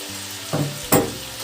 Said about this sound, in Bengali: আমি একটু নেড়ে নেবো, যেহেতু সবজি থেকে দেখতে কত জল বেরিয়ে গেছে